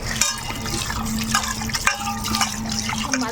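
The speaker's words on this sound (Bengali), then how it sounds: "এবার মাছগুলোকে ভালো করে ধুয়ে নিব।" Prawns full of roe being washed under running tap water in a Bengali kitchen, a steady continuous splashing and trickling stream close by with faint handling noises throughout.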